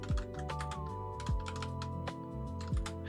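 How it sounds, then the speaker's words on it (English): Quick, light keystrokes on a computer keyboard tap in an irregular burst over steady background game music, close and clear. "I'll type in the game"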